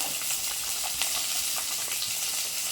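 Onion and garlic frying in a pan while cooking a hotel-style okra tamarind curry, a steady close broadband sizzle with faint crackles and stirring, no voices.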